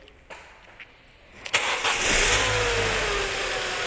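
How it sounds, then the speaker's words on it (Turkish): A car engine cranks after a few faint clicks, catches with a loud rev, then settles into a steady idle to warm up, close and continuous with no talk. "Çalıştır. ısıtalım biraz biz aracı."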